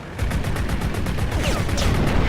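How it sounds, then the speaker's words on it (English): Gunfire from an aircraft in the video game Crimson Skies, a loud rapid stream of regular shots rattling continuously over a dense roar. "He's gonna randomly start shooting this guy for no reason."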